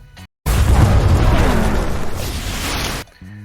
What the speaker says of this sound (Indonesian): tiba-tiba airlock di dalam hub tidak berfungsi dan meledak